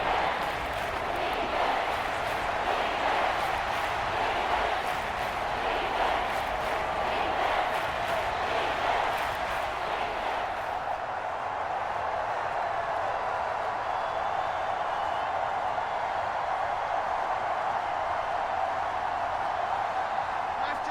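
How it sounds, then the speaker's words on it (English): A stadium crowd at Arrowhead in a Madden NFL football video game roars as a steady, fairly distant wash of noise, dropping somewhat in level partway through. "The Arrowhead crowd in full roar."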